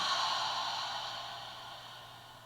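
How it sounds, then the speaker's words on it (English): A single long, airy breath drawn close to the listener, a soft steady rush that slowly fades over a couple of seconds. "Take an inhale."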